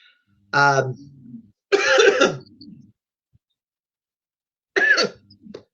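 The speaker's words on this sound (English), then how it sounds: "Gosh, I'm coughing." A few separate coughs and throat-clearing bursts from a single person, close and dry, spaced apart with silence between them.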